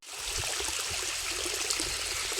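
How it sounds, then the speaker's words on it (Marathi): Water gushes from a running farm water pump motor in a field, a steady close rushing and splashing stream that continues through the whole clip without pause, with no talking. "मळ्यातली पण मोटर चालू केली मित्रांनो पाणी कमी येतं"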